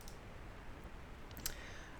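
Computer mouse clicks while entering wound infection data, a couple of faint, sharp clicks near the middle over quiet room hiss.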